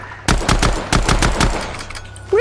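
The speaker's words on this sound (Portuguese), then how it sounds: "Tem disparos vindo de fora." Rapid bursts of automatic gunfire in a zombie apocalypse video game, two quick volleys of loud sharp shots in a steady rhythm, close and dominant, ending in a short rising tone.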